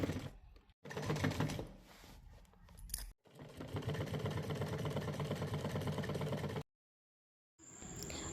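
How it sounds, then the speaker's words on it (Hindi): A sewing machine stitches along the sides of old cloth in fast, even mechanical bursts, pausing briefly between runs and stopping once near the end, close and alone with no voices. "मेरा हाथ बैठा हुआ है तो मैं डायरेक्ट इस पर सिलाई लगा दूंगी"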